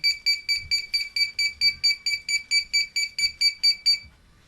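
Rapid electronic alarm beeping from a remote-controlled hydraulic door lock system, a fast regular series of about fifteen high-pitched pulses, loud and close, then stopping abruptly near the end when connected to 220 V mains.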